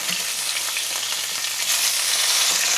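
Blackened trout sizzles loudly in a hot pan as it is turned, a steady, close, dense hiss that swells slightly toward the end, with no voices.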